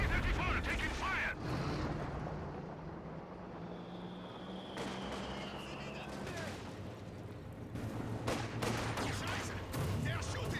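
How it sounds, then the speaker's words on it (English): Gunfire striking a T-34 tank in Company of Heroes 2, a busy battlefield mix of scattered shots and booms over a steady low rumble, with a few sharp cracks near the end. "T-34 taking fire!"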